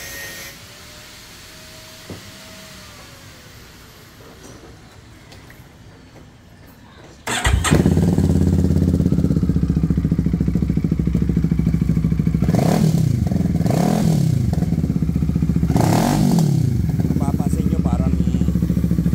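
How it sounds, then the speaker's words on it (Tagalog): A Brixton 650 bobber motorcycle fitted with a new exhaust starts after a quiet stretch, then idles loud and near with a throbbing beat and several revs swelling and falling, while someone talks over it. "magpa-backfire pa yan kasi bagong kapit yung tambucho nag-adjust pa yung ECU niya"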